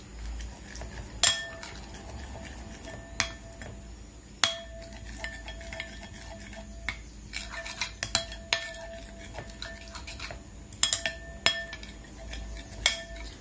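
A utensil clinks and scrapes against a bowl while honey salad dressing is mixed, producing irregular bright metallic taps and rhythmic stirring clatter over a low room hum, with no talking.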